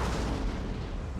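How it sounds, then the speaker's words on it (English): Artillery guns fire in the Napoleonic-era strategy game Napoleon Total War, a short rumbling boom with low, dull resonance that fades over about a second, with no voices. "Right, these guns should be opening up now."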